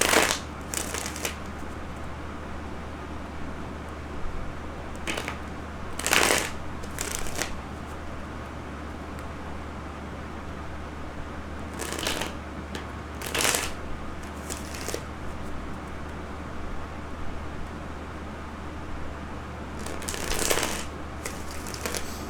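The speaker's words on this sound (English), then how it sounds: "this card just flopped out when I was trying to shuffle" A deck of cards being shuffled by hand, with several quick riffling bursts separated by quiet pauses over a faint steady background hum, close and clear, with nobody speaking.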